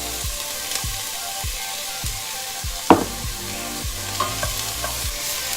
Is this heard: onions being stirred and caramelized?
yes